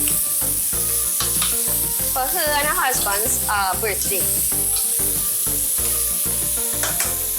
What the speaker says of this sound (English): our pumpkin is in and it's frying up there.